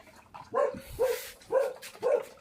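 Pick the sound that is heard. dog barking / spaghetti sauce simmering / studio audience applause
dog barking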